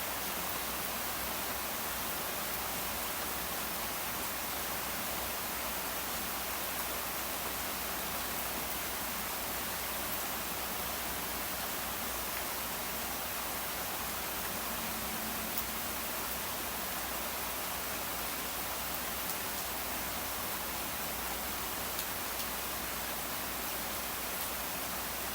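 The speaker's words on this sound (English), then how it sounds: "Just have a listen to this rain shower." A heavy tropical rainforest rain shower pours down as a dense, steady hiss that stays constant and unbroken throughout, with no voices.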